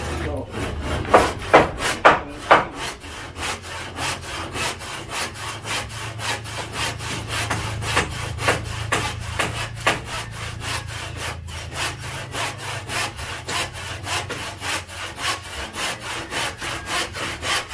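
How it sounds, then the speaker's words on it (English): Hand tools working timber on a budget bungalow build site in the Philippines, cutting slots for house bracing; steady rhythmic rasping strokes repeat throughout at close range, with a few sharper knocks near the start and a low hum underneath. "They're using chisels to slot in the wood"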